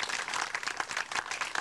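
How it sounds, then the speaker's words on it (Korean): Quiet but steady applause from an audience at a community center open house and scholarship ceremony, recorded on old VHS tape, a dense patter of many hands sounding somewhat distant. "그분에게 감사의 박수를 전해드렸으면 좋겠습니다."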